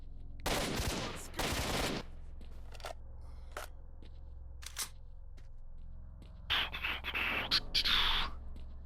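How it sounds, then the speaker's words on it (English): Bursts of automatic gunfire in the S.T.A.L.K.E.R. Shadow of Chernobyl game, two dense rattling volleys early on, scattered single shots, then another longer crackling burst near the end, heard alone without talk. "Who else is shooting?"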